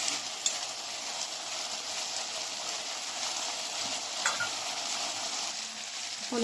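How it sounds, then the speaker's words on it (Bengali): Spice mix frying in a pan and being stirred, a steady hissing sizzle like rain on a surface, close and even, with only a few faint scrapes of the spoon. "মশলাটাকে আমি আর একটু ভালো করে নাড়িয়ে নিলাম"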